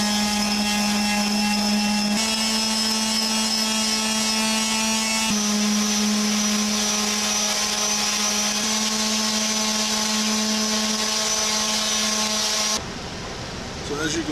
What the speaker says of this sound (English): I'm just gonna get a power sander out here